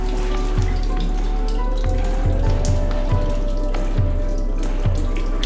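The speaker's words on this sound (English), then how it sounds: "And it's raining on us a little bit." Rain patters on a surface with scattered drips and drops, under a steady low background rumble, in a cave on a boat tour in Trang An, Ninh Binh, Vietnam.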